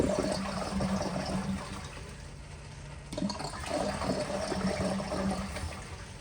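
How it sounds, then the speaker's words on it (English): A weak flush from a 2000 Eljer Signature toilet, steady rushing and trickling water close by that dips briefly and then surges again before settling into a continuing fill. "here's a weak flush."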